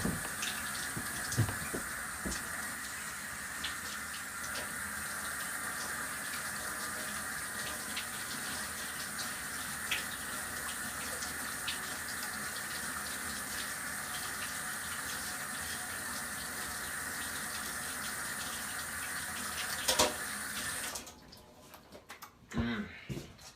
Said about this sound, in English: As you can see, I washed the fork off.